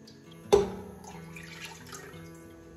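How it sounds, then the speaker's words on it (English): Three cups of lilikoi juice are poured into a pot, starting with a sharp splash, then settling into a steady, fairly quiet liquid pour that continues to the end. "I'm gonna start with 3 cups of lilikoi juice."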